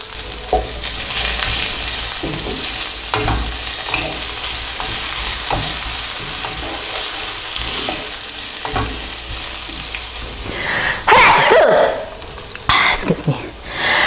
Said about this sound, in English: give it a good stir, and you can add in the onion as well as